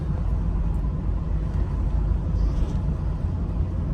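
A 2001 Chevrolet Camaro Z/28 with a 5.7 V8 drives along, giving a steady, dense low rumble from start to finish with no voices.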